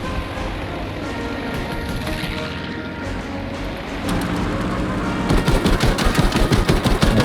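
Rapid bursts of 20mm cannon fire from an F4U-1A Corsair fighter in the video game Battlefield V, sustained engine drone giving way to loud, dense rhythmic firing that builds toward the end.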